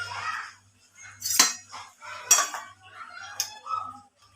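A spoon clinks and scrapes in a bowl of coarse-flour batter being checked for making boondi for laddoos, with three or four sharp, close metallic taps spaced a second apart and quiet kitchen stillness between.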